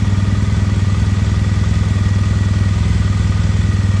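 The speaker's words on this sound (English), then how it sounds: "you need to run the bike for about 5 minutes to let everything warm up" A Triumph Bonneville T100 motorcycle idles close by, its steady low engine pulsing in an even, rapid rhythm with a light mechanical clatter, alone and unchanging.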